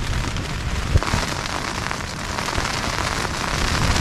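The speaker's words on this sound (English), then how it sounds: "it appears it hasn't stopped raining" Steady heavy rain drums on a tent on a stormy mountain hike in the Drakensberg, a dense continuous patter close by with one brief louder knock, and no talking.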